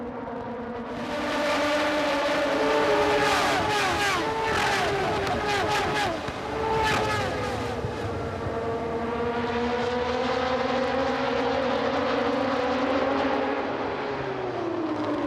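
Moto2 racing motorcycles at the Sachsenring in the 2024 German Grand Prix scream past in a pack, high-revving engines rising and falling with quick downshifts, loud and continuous throughout.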